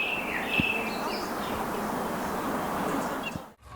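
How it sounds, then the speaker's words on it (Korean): Birds chirp and trill now and then over a steady hum of outdoor ambience in a hilltop garden, the calls faint to moderate and fairly distant, with no one talking. "언덕 위에 올라서면 도시의 소음 대신 정겨운 새소리가 들려옵니다"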